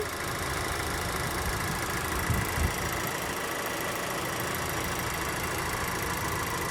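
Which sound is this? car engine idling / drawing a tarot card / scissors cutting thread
car engine idling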